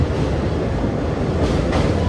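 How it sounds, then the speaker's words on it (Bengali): Steady, loud rumble and rattle of the Azimganj–Krishnanagar passenger train crossing the Nashipur rail bridge over the Bhagirathi, heard from on board with faint clickety-clack and no voices. "অবশেষে আমাদের ট্রেন এখন পার হচ্ছে"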